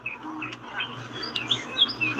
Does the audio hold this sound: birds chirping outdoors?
yes